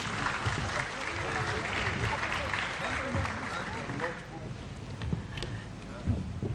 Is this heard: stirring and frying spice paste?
no